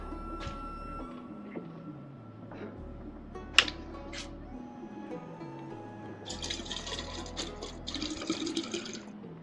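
Water runs and pours to fill a container within a Honkai: Star Rail gameplay session, a steady soft stream with faint clinks, growing brighter and fuller toward the end, with no talking.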